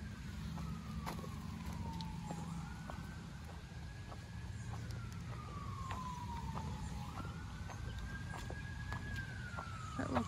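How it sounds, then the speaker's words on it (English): Ambulance siren heard from a park, a slow rising and falling wail repeating over several cycles at moderate distance above steady outdoor background noise. "Do you hear the ambulance, Opie?"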